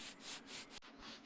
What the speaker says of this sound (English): almost finished sanding